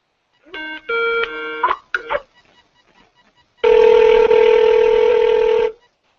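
A telephone call rings through over a handset: first a burst of short dial tones, then one long steady ringback tone lasting about two seconds, loud and clear with no talking.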